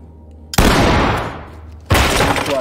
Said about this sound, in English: Deploy flashbangs and clear.